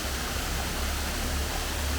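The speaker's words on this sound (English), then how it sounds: "I do like this waterfall" A waterfall in Loyalsock State Forest, Pennsylvania, gives a steady, broad rushing roar of falling water, continuous and even with no other sounds.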